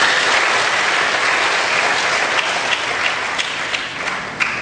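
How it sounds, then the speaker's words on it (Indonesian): Loud, sustained applause from a school orientation audience fills the room, dense and steady with a few sharper claps standing out as it gradually eases. "Aplaus untuk kalian semuanya."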